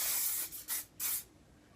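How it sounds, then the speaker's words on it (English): Hairspray is sprayed onto styled hair in three quick hissing bursts. The first is longest and the next two are shorter, all close and soft. "And then taking the hairspray again just to kind of secure it."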